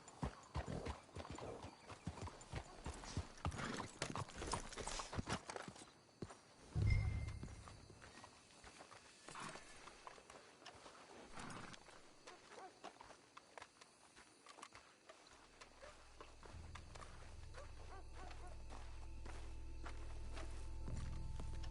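Horses' hooves clip-clop at a steady walking pace in the video game Red Dead Redemption, fairly close, with a brief whinny partway through and a low rumble building toward the end.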